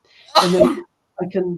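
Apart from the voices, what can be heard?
sneeze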